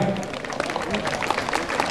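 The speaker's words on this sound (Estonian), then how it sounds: "Võite aplodeerida." Spectators at a beef cattle show applaud, a loose scatter of claps from a crowd in a large hall, moderately distant, with voices murmuring underneath.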